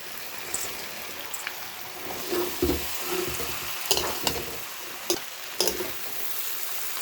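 Ghugni with potato, cashews and raisins fries in a pan while being stirred, giving a crackling sizzle punctuated by several sharp spatula clacks and scrapes, with no talking.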